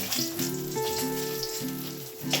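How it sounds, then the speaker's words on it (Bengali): Fish frying in hot oil in a home kitchen gives a steady, close sizzle that crackles continuously throughout, with no one talking. "মাছগুলো রেডি হয়ে গেছে মাছগুলো ভাজা স্টার্ট করবো"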